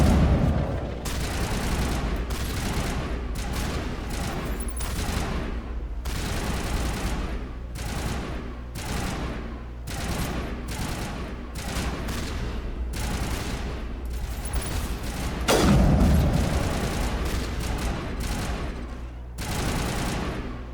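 Dense gunfire crossfire rattles on without pause in a Mass Effect firefight, rapid overlapping shots with a louder burst of impacts near the end, and no voices over it.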